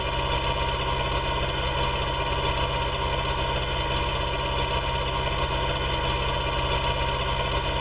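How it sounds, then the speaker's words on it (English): Tractor engine with front loader brackets idling in a farming video game, a steady, even mechanical drone with constant throbbing hum and no variation, loud and alone without speech. "it's got the front loader brackets on, so will be useful as a front loader tractor"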